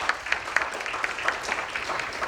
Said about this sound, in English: Please give Carrie a round of applause.